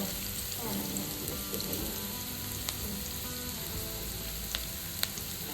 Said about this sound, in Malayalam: ഉള്ളിട്ട് വഴറ്റാം.